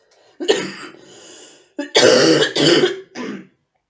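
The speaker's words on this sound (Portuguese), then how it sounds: "Com licença que eu vou tossir." A person coughs and clears their throat in a few harsh, close bursts, with short pauses between them and silence at the end.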